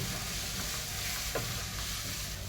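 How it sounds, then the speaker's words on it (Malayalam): Chopped onions hitting hot oil after mustard seeds have popped, giving a dense, steady close-up sizzle that holds evenly throughout, with no talking. "കടുക് പൊട്ടി കഴിയുമ്പോഴത്തേക്ക് അരിഞ്ഞു വെച്ചിരിക്കുന്ന സവാള അങ്ങ് ഇതിലോട്ട് ഇട്ട് കൊടുക്കാം."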